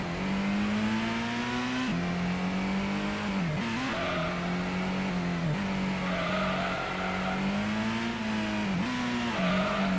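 Race cars in Gran Turismo on the PS1 hold a loud, continuous engine drone through an endurance race, the pitch dipping and climbing with gear shifts and a brief tyre squeal.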